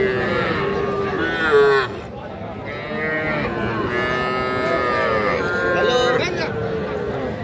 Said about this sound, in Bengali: যে এটা একটা ষাঁড় বাছুর